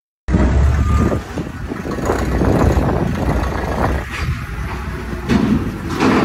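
A truck loaded with about ten tons of food and taking on water runs its engine in a loud, close, rumbling drone that cuts in abruptly and carries on steadily with slight swells.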